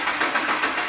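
A car engine with bank 1 and bank 2 fuel trims running lean idles with a steady, close, even drone, and no voices are heard.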